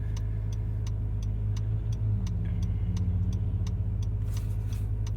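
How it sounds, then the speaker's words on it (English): Idling engine of a 2020 Acura NSX held in Sport Plus mode while stopped at a traffic light, a steady low hum with a faint regular ticking over it, no talk. "the engine stays on even when we're sitting at the light"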